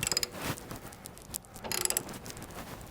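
Dynatrac ball joint pressed into a Jeep axle, giving bursts of ratcheting clicks and metallic mechanical creaks at the start and again near the end, with quieter grinding strain between them.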